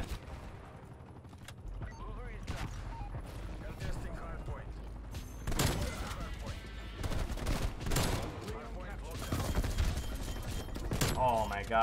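Gunfire rattles in a Call of Duty: Black Ops Cold War multiplayer match, with repeated bursts and volleys over busy game sound. A player talks over much of the action.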